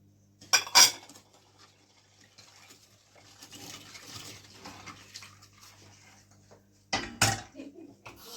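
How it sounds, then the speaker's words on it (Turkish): A utensil stirs a sugar, starch, flour and butter pudding mixture in a pot for cat's tongue dessert. Faint scraping runs continuously, with a few louder metallic clinks at the start and near the end. "Şimdi bunu bir kıvamına gelene kadar karıştırıyoruz hiç durmadan"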